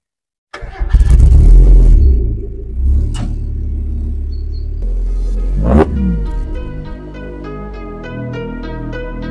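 A Mazda MX5 Miata engine cranks and fires up, settling into a rough idle before two sharp revs, then an idle with a ticking, pulsing rhythm, close and loud.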